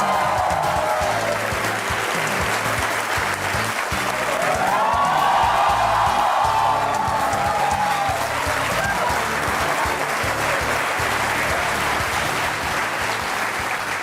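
Sustained studio audience applause for a singer's entrance on the Aap Ki Adalat courtroom-style TV show, a dense, steady wash of clapping at full volume throughout, with a brief swell in the middle.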